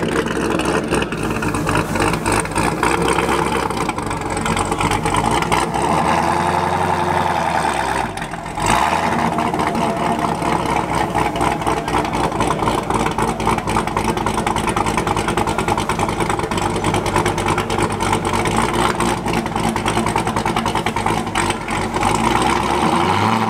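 A cammed 2017 Corvette Grand Sport with a Corsa exhaust rumbles loudly and steadily, idling with a choppy low-end pulse and a short dip in level midway, with no talk over it.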